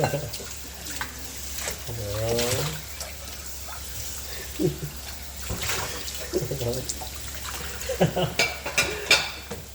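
Tap water runs steadily while dishes clink and clatter, with a few brief voice sounds in between.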